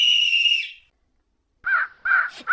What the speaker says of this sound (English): a great flock of wild crows came flying towards her